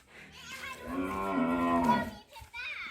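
A single cow at a Thai cattle pen lets out one long, drawn-out moo, fairly loud and close, swelling in the middle before breaking off, with a brief softer call at the end.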